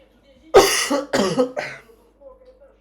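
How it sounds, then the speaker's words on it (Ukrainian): Three harsh coughs in quick succession, loud and close, the first strongest, followed by quiet breathing. "Перепрошую, кашель мучить холодно."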